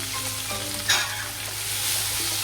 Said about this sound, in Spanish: Espinacas a la sartén para poder secarlas, solamente unos 6 minutos,